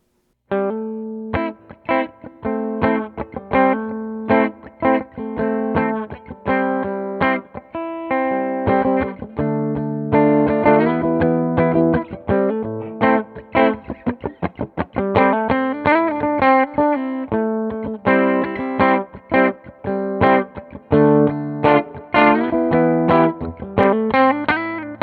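An Epiphone Les Paul electric guitar, set to the treble pickup, plays punchy distorted riffs through an amp. Quick palm-muted chugs and ringing chords continue loud and close without pause.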